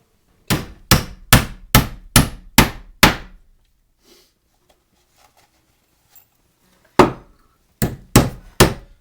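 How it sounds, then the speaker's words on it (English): Nails are hammered into wooden framing studs while a closet is built: a quick run of seven sharp, ringing blows, a pause, then four more strikes, close and loud with no talking. "I can go ahead and pop a couple nails in, and that'll hold that."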